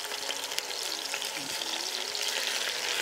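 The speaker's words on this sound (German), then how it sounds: "Wir braten die jetzt hier einfach nur an, um schön Röstaromen zu kriegen." A pork crown sears in a Dutch oven, giving a steady, close, dense sizzle and crackle of frying meat that holds even throughout with no talking.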